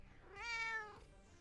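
A cat meows once, a clear, drawn-out rising-and-falling call lasting under a second, fairly close against a quiet background.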